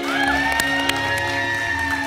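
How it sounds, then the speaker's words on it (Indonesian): A studio audience at a TV variety show cheers and shouts loudly in a short, dense burst, with music tones ringing underneath. "Boleh tepuk tangan dong."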